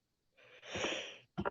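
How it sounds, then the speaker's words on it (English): A man's yawn during a classroom accounting lecture, a breathy rising exhale swelling for about a second and then trailing off, followed by a short burst of other sound. "Was that a yawn of excitement?"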